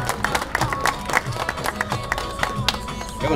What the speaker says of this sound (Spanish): Un aplauso, por favor, al ganador.